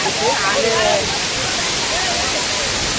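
Loud, constant roar of rushing water at Shahapada dam in Pen taluka fills the scene, with a voice speaking briefly over the torrent.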